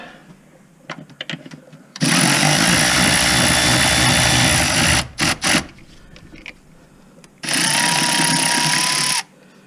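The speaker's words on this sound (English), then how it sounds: "Let's get these bolts loosened." A power tool loosens bolts on a car's master brake cylinder in two loud, sustained bursts of close whirring, broken by short gaps and a few clicks, with no talking.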